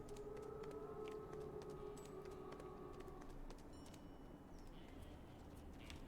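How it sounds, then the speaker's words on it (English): A wolf pack howls in the video game WolfQuest, with faint, distant, drawn-out tones rising over quiet game ambience for roughly the first half before fading; no one speaks. "Definitely hear the Lucky Pack howling."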